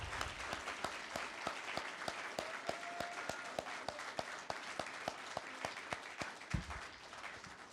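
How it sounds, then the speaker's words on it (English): At an Officer of the Month ceremony, a small audience claps for the awardees in a steady, fairly close rhythm. A voice briefly sounds under the clapping before it thins out at the end. "how about one more round of applause for all the awardees?"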